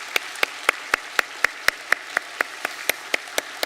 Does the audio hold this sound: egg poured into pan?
no